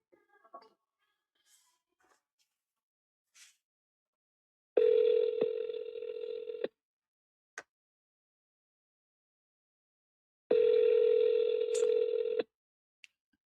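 Two long, loud electronic ring tones of about two seconds each, spaced several seconds apart, for an outgoing phone call, with a few faint clicks before and between them and no talking.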